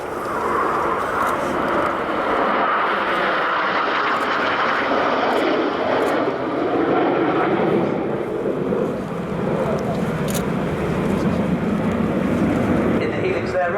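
RAF Red Arrows jets roar overhead while flying the helix manoeuvre at an airshow, a loud, continuous rushing engine drone that barely fades, with a commentator talking over it.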